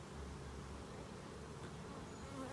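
A dense, steady buzzing hum of many honey bees in a hive close by, continuous and unbroken throughout.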